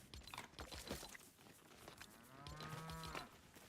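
Cows mooing in a farming video game, a loud low drawn-out moo rising over a background of crunchy munching and clattering, heard up close with no talk.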